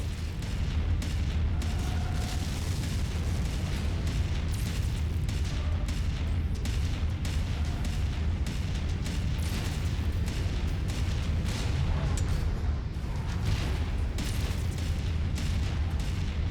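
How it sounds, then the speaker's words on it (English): Incoming missiles exploding around a battle mech in MechWarrior 5: Mercenaries, a dense continuous barrage of booms and crackling impacts over a heavy low rumble, loud throughout with no pauses. "Incoming missile."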